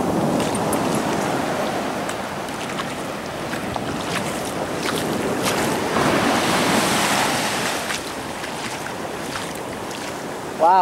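Cold ocean surf washes up into a beachside parking lot, rolling and hissing continuously with a heavier crash midway, mixed with gusty wind noise on the microphone.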